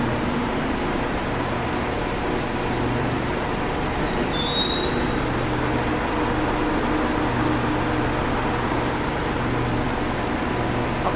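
The Adi Sumarmo airport train at Caruban station, a steady, loud mechanical hum and rumble that holds unchanged throughout, with a faint high whine drifting in briefly and no voices.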